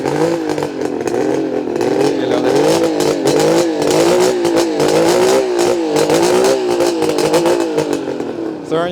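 A 1977 Suzuki GT550 three-cylinder two-stroke motorcycle engine, warming up, is blipped repeatedly to around 3,000 rpm, loud and close, its rasping revs rising and falling in quick succession with a faint voice underneath.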